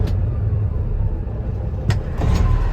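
A 2016 Peterbilt 389 glider daycab truck's engine running smoothly, a close, steady low rumble with a couple of brief knocks or clicks near the end and no talk.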